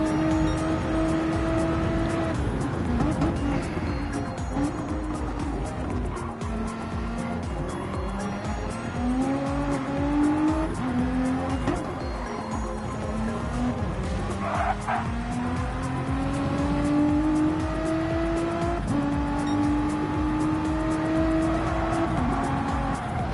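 Race cars lapping in a Gran Turismo-style racing game at Kyoto, engines droning and rising through gears with repeated shifts, tires squealing through corners, sustained and fairly loud throughout.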